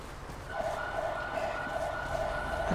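Emergency sirens in GTA V with the LSPDFR police mod, on an Irish Garda patrol in County Wicklow: a steady wailing siren tone sounds at moderate volume over a rumbling car engine background.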